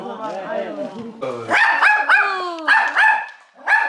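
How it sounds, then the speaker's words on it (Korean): A dog barks in short, close yips and barks outdoors in the snowy Pocheon countryside over the Lunar New Year holiday, with people talking around it. "강아지 처음 보는 건 이렇게 가까이서"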